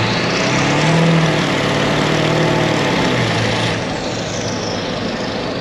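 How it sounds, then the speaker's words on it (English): An OBS pickup truck fitted with a downpipe runs close by with a deep, steady engine rumble and broad exhaust roar, easing slightly quieter partway through. "This truck sounds awesome, being that it already has a downpipe and all of that."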